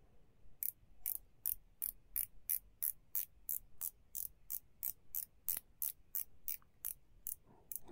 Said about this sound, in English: So this has got a 120 click ceramic bezel. Really nice clicky bezel there.